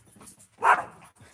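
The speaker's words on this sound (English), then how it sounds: "Dog's coming out. Look at this dog." A dog barks once in a single loud burst outdoors on a rural home property on Salt Spring Island, with quiet background around it.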